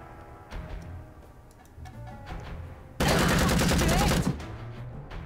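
Gunfire in the Empire of Sin video game: a loud, dense burst of rapid shots lasting about a second, set against quieter ticking game sounds.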